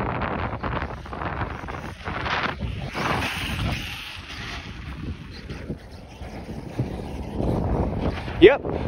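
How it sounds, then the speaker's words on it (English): Wind gusting outdoors in a parking lot as snow approaches, a steady broadband rush with stronger gusts, mixed with nearby movement and brief sounds near the end, while someone talks over it. "God, the wind's coming in."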